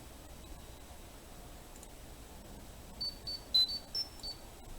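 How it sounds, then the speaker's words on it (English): A mobile phone gives a short run of thin electronic beeps, about six quick tones clustered together near the end, over a faint steady hiss with no talking. "my phone's beeping"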